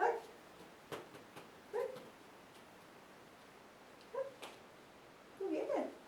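A male puppy gives several soft, high whimpers and little yips in short bursts while playing with a ball, with quiet pauses and faint scuffling between them.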